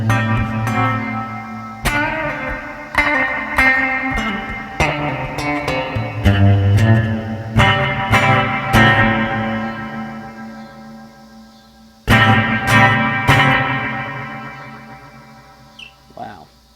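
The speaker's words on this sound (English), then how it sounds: "Let's see what their spring sounds like. That's a real test of a reverb unit" Guitar chords struck repeatedly through the spring reverb emulation of an Eventide Space reverb pedal, each strum trailing off in a splashy, metallic wash, with pauses between phrases.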